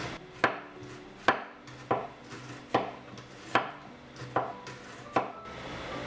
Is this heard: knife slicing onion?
yes